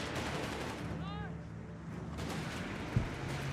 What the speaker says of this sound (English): We see Redxwings using the Dingoes and artillery on the cutoff point.